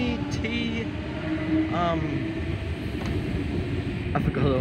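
A train departs a station platform at Wolli Creek, a broad rumble with rising squeals and a passing hum close by, while a voice talks over it.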